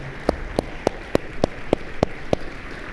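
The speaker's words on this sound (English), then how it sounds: "Give them a big round of applause, everybody." Scattered claps from an audience at a Florida College Academy chapel and graduation ceremony, eight sharp, evenly spaced hand claps over a steady background hiss, like a few people clapping rhythmically rather than full applause.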